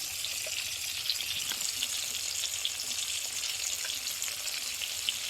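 Cashew, melon seed, poppy seed and ginger-green chili pastes fry in a pan for a vegetarian butter paneer, giving a close, continuous sizzle with faint stirring taps.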